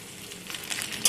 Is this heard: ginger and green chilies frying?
yes